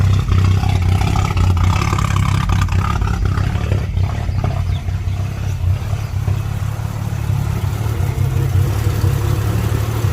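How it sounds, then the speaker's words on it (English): A BMW E38 750iL V12 idles with a steady, smooth low hum and soft mechanical clatter, heard close and continuous without any revving or talk. "Engine sounds quiet."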